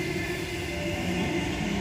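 A T53 four-car Bondi Junction train set passes through Kogarah station with a steady, moderately loud rumble and rail hiss throughout, no voices.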